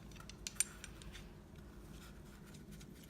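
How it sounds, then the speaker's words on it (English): Faint metallic scraping and a few sharp ticks from a pipe cutter tightened around a scrap piece of 1/4 inch steel brake line and turned around it, quiet and close with no talking. "first in the kit we have a pipe cutter, and I just got a scrap piece of 1/4 inch brake line"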